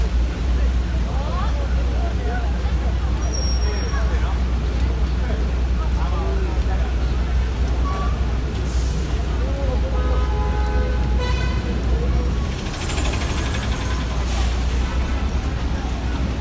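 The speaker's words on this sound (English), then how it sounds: "People are now getting right into the bus." City buses and street traffic in Yangon on a rainy business day, a steady roadway rumble with a few short horn toots, and people talking underneath.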